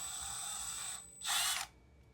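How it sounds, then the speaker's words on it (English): A small handheld drill runs a screw into a wooden router circle jig, a brief high whirring burst after a softer steady whine, close and loud against a quiet workshop. "I need something to run a screw, which I got a little drill right here. So you just run the screw in."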